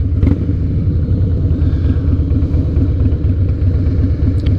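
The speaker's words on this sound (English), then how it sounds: "This bike just is, it's such a wonderful motorcycle, and it runs, it's running good now." A 2007 Harley-Davidson Night Train engine idles steadily up close with a throbbing, slightly clattery rhythm throughout.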